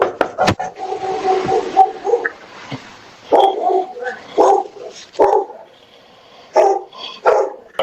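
Several dogs bark and yip in irregular bursts, loud and close, with a whimper in between, during a tense encounter with police officers at a house.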